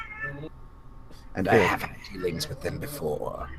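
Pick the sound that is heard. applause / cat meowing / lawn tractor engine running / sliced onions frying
cat meowing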